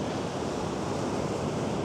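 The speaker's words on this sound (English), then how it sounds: "I've got the water sort of crashing in again to all of the cliff line" Sea waves crash against the cliff line of a beach at high tide, a continuous loud, close wash of surf with no pauses and no voices.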